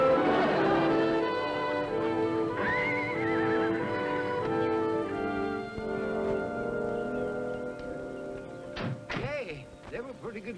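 Horses whinny amid dull thuds and some clip-clop hooves, mostly under people talking nearby, with the sounds coming and going over about ten seconds.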